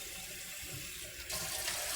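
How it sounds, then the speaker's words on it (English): Water runs from a kitchen tap into a bowl in a steady hissing stream, with the pour growing slightly louder and brighter partway through. "I'm going to grab a bowl and fill it with water."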